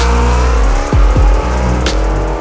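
A supercharged or nitrous-fed car engine revs hard under full acceleration, its pitch climbing and then dropping sharply twice as gears shift, loud and close inside the car with no talking.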